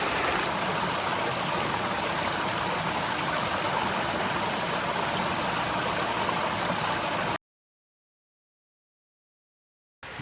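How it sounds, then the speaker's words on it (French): A river flows nearby on a hiking trail to a waterfall in Martinique: a steady, dense rushing wash of water lasts about seven seconds, then cuts to silence. "la rivière qui coule à côté"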